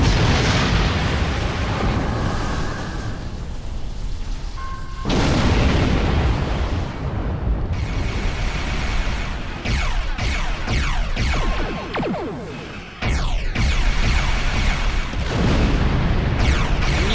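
Torpedo fire and explosions in Star Trek Online space combat: a string of heavy booming blasts over about seventeen seconds, each burst followed by a rolling roar, with sharp onsets near five and thirteen seconds, loud and close.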